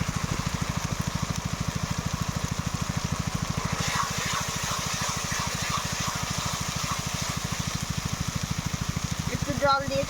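Onion, garlic and ginger sizzle steadily in a pan as coriander and cumin pastes go in, a continuous loud crackling fry with a rapid pulsing texture and a brief clatter near the end.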